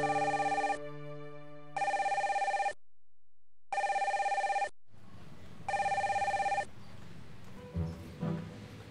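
A telephone rings in regular electronic bursts, four rings separated by short pauses, fairly clear and near, followed by faint room noise and a brief rustle.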